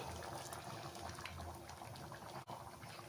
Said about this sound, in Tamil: புளி சேர்த்து நல்லாவே கொதி வந்துடுச்சு